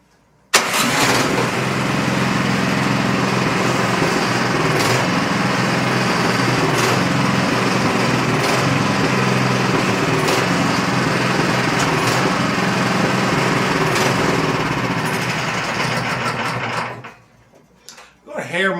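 A snowblower's small engine runs steadily and loudly at a constant idle-to-mid pace while its drive is adjusted, nearly continuous before cutting off near the end, with a voice faintly under it.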